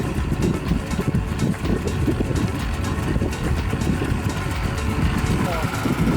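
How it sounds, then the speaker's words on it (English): A small two-stroke engine on an aircraft at an air show runs steadily with a buzzing drone, mixed with wind noise on the microphone. "Sounds like a two-stroke. It is a two-stroke."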